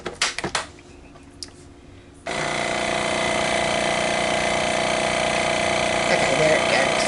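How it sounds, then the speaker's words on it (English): A vacuum sealer machine switches on and runs steadily on a freezer bag of pre-seasoned meat, a loud continuous motor hum following a few brief clicks and handling noises. "Sometimes if you don't have it in there just right, it will make the noise, but it won't vacuum."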